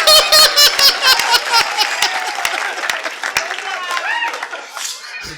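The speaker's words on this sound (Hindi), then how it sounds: "एक बार तालियां हो जाए।" Audience at a Hindi poetry show bursts into loud, close applause mixed with laughter and giggles, the clapping thinning out toward the end as scattered chuckles linger.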